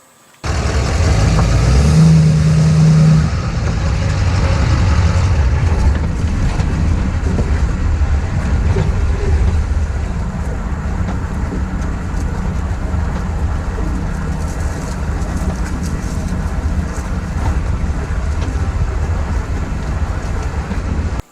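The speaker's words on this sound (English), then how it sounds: "There is a bunch of junk in the back of the bed of my truck, so you can kind of hear it smacking around as it's riding there." Loose junk rattles and smacks around in the bed of a moving pickup truck, a constant low road rumble with busy clattering throughout, loudest in the first few seconds.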